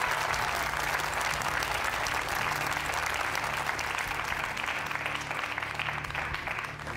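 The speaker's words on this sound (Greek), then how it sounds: "Δώστε ακόμα ένα χειροκρότημα, παρακαλώ." A studio audience on a Greek Who Wants to Be a Millionaire–style quiz show breaks into loud, sustained applause, a thick continuous roar of clapping over a low musical hum, easing only slightly near the close.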